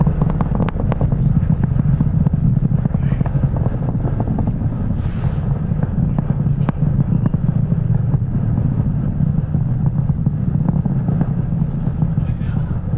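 A SpaceX Falcon 9 rocket launching Starlink satellites roars in flight after going supersonic. It makes a heavy, steady, low rumble that stays loud throughout, with wind buffeting and a faint voice underneath.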